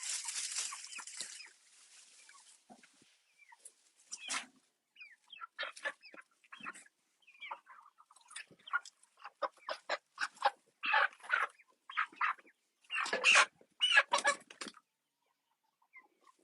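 Chickens cluck in a string of short, irregular bursts that grow denser toward the end, close to the listener, with no talk over them.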